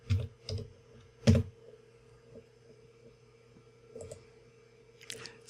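Typing on a computer keyboard while entering a supplier name into business software, heard as a few sparse, soft clicks and keystroke bursts over a low steady hum in a quiet room.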